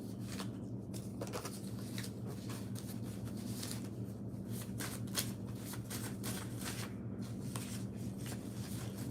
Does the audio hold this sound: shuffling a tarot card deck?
yes